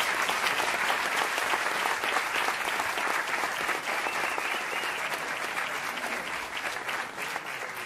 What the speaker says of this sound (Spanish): queremos darle un fuerte aplauso